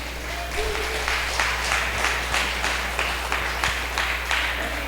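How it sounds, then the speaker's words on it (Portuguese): Church congregation applauding during a worship service, steady rhythmic clapping from many hands that holds across the whole stretch over a low hum, with faint voices mixed in. "Dá um aplauso a Jesus."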